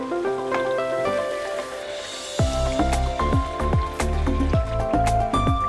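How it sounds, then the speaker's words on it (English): Pepper stew being stirred into fried plantain and gizzard in a pot for Nigerian gizdodo, with close, wet squelching and sloppy slaps of thick food under a spoon in an uneven rhythm. "Keep on mixing to break it down so the stew will get into each and every corner of every single plantain."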